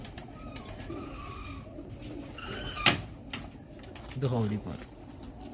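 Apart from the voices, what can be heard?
pigeons cooing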